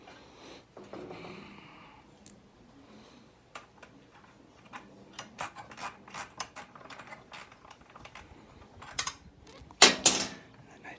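Small ratcheting wrench working on a Kymco 250 Bet and Win scooter, giving quick faint clicking runs and light metallic taps close by, growing busier toward the end, with one sharper clank near the finish.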